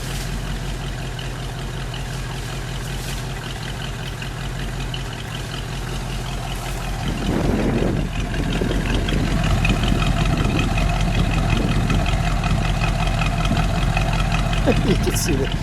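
A red and beige 1955 Chevrolet Bel Air two-door hardtop idles nearby in Illinois cold, a steady low rumble that swells louder and rougher about halfway through and holds there, with faint talk underneath.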